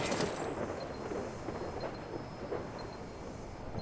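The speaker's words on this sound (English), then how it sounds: "the thunder's here." Video game thunder, a continuous low, broad rumble that rolls on steadily throughout at a fairly quiet, even level with no distinct strikes.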